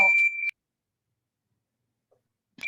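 A single steady electronic beep sounds at the start, then a long silence before a brief sound returns at the end.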